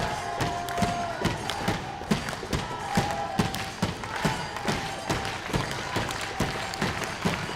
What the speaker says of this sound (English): Crowd taking the opportunity to rally themselves, create some noise